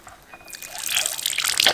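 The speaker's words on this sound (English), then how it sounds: "Add a little water." Water poured into a gold pan holding black sand, a soft trickle that builds into a steady splashing stream over a couple of seconds, close and fairly quiet with no voices.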